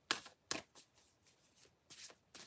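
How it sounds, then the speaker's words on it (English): A deck of tarot cards shuffled up close, a series of crisp riffling bursts and soft slides in an uneven rhythm, fairly quiet and with no voices. "I just shuffle the deck, and one card either falls out by itself or does not want to go back in."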